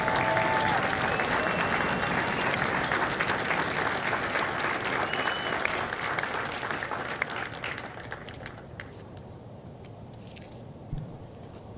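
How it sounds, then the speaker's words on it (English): Crowd applause at a Marine Corps recruit graduation at MCRD San Diego for the Kilo Company staff, broad and outdoor-sounding, strong at first then thinning and fading toward the end. "please join me in a round of applause for the company staff of Company K"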